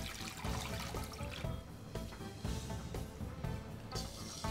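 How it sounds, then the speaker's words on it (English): Liquids are poured into a pot while cooking: sake, sugar, soy sauce and water pour in a steady splashing stream, with a few brief pauses and shifts as each ingredient is added. "Combine the sake, sugar, soy sauce, and water in a pot."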